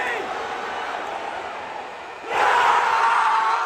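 Boston Celtics home crowd roaring in a packed basketball arena, a steady wash of cheering that swells sharply louder partway through and stays loud to the end.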